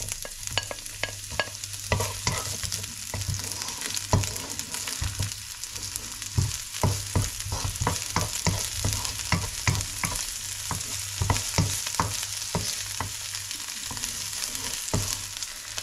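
Onions frying in a pan: continuous close sizzle with rapid, busy stirring scrapes and clicks of a utensil throughout, fairly loud and with no talking.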